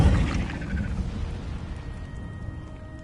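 An Incendio fire spell cast in Hogwarts Legacy gives a deep, rumbling burst of flame that starts strong and fades over about three seconds, with no talk over it.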